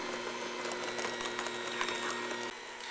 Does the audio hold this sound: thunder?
no